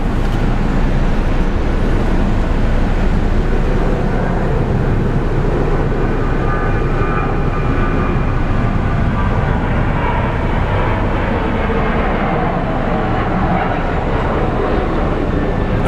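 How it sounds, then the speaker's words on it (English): A steady, loud, broadband roar of jet engines comes from an Airbus A300 airliner moving at Sky Harbor International Airport, heard constantly with wind and rumble. "We have an A300 moving."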